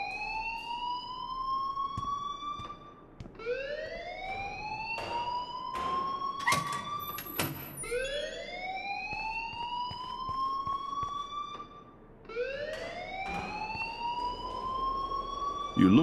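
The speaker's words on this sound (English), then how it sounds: "please turn off that alarm since that's your job" Alarm in the video game Life is Strange, a rising, repeating siren-like wail sweeping upward in long cycles, fairly loud and continuous, with voices talking over it.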